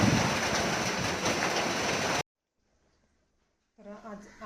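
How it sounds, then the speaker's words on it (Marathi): Heavy monsoon rain and gusting wind roar steadily and loudly for about two seconds before cutting off to near silence, followed by a faint voice. "मोठाच्या मोठा पाऊस पण आलेला आहे भरपूर असा"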